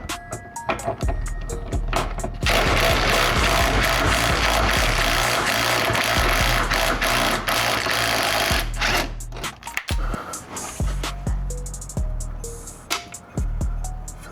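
An impact wrench with a dying battery works bolts on a Nissan S13 coupe, rattling loudly in a long sustained run, then in short, faltering bursts separated by clicks and pauses.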